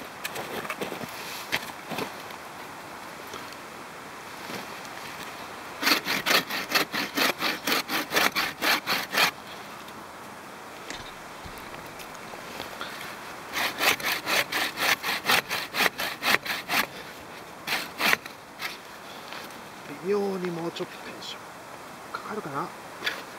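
Handmade bucksaw cutting through wood outdoors on a wooded hillside, giving two runs of steady rhythmic rasping strokes, close and fairly loud, with quieter handling noises and a person talking between the runs.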